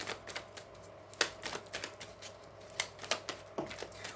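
Tarot cards are shuffled by hand, producing quick soft flicks and taps in irregular bursts, close and quiet, with no speech.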